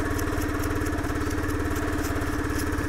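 A SYM Cruisym 300 scooter engine idles after a cold start, giving a steady, close, even putter with a regular pulsing rhythm and no talking.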